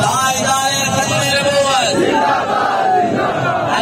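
A large crowd at a Milad-e-Mustafa religious rally chants slogans together, with loud, sustained massed voices rising and falling over a steady roar.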